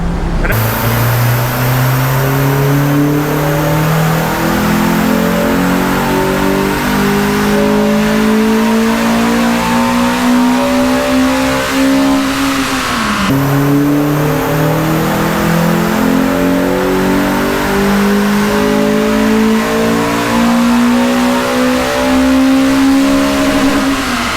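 A loud car engine on a dyno revs up steadily through the gears, pitch climbing, drops briefly, then climbs again in a sustained high-rpm run.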